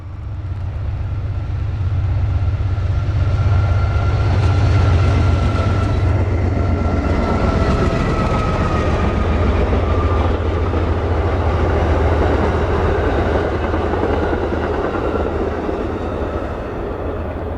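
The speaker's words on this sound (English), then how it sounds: "As darkness falls, another empty oil train descends the grade." Empty oil freight train descending a grade at dusk on the Pittsburgh Line, a loud sustained rumble of rolling cars with clickety-clack and faint squeals, close by and steady for the whole stretch, with no talk.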